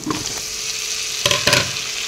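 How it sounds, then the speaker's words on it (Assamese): Mixed vegetables and potatoes for curry fry in hot oil in a pan with a close, loud, steady sizzle, broken by two sharp bursts of stirring near the end. "এইখিনিও এনেদৰে সেই তেলতে ভাজি দিলোঁ একেলগে তাৰপিছত দি দিলোঁ আলুখিনি"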